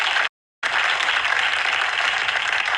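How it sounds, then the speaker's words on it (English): An audience breaks into steady, dense applause, cut off by a brief dropout before it resumes at the same full, even level. "let's give him a round of applause"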